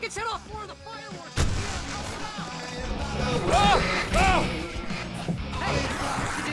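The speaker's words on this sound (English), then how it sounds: "I can set off more of the fireworks!" Fireworks burst in the video game Alan Wake Remastered during a fight, making a dense, continuous barrage of loud booms and crackles, with voices shouting partly buried in the din.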